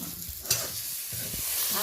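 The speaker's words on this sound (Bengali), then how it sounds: "আদা বাটাটা 2 মিনিট আমি উল্টে পাল্টে পেঁয়াজের সাথে ভালো করে নেড়ে নেব।" Ginger paste frying with onions, tomatoes and green chillies in a pan is stirred, giving a soft steady sizzle with a brief utensil clink and scraping, close but quiet.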